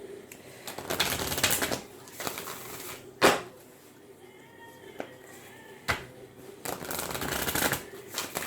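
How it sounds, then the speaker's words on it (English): An Angel Therapy oracle card deck being shuffled by hand indoors, giving repeated bursts of soft riffling and flicking with brief pauses between them, close and moderately loud. "That therapy deck, when I get to shuffling it,"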